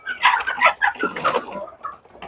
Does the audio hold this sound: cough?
no